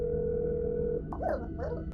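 A telephone dial tone from a call placed in the horror game That's not my neighbor, a steady continuous tone that runs for about a second before cutting off, followed by brief garbled sounds.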